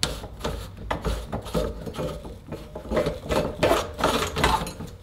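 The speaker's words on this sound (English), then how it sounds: "now I can go ahead and tighten up my preload collar against the shock" The preload collar on a KTM WP shock is tightened against the spring on a bench, producing a quick series of close metallic scraping, ratcheting clicks and rubbing in an uneven rhythm.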